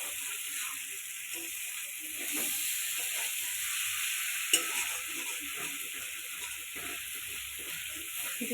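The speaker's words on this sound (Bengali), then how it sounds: "এবার আলু আর ফুলকপিটা দিয়ে দিব। এটা ভালো করে কষিয়ে নিব।" Potatoes and cauliflower fry in oil with cooked-down spices for an egg curry, a continuous close sizzle with light stirring and one brief sharp tick partway through, with no one speaking.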